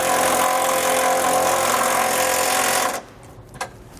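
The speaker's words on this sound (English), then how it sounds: "Now we'll go ahead and tighten and torque that bolt down." A power tool drives a bolt with a 1/2 inch lock nut and flat washer on a Roadmaster front anti-sway bar of a 2009 Coachworks Siena motorhome. A loud, dense buzzing whir runs for about three seconds, then cuts off, leaving a single faint click.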